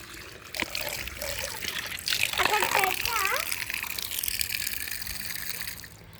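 Water poured out for birds on a rooftop in the morning, a splashing gush that swells midway and trickles on, with voices, including a child's, talking over it.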